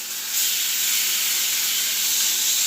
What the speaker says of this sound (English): Now I'm trying to sear off all sides of this meat.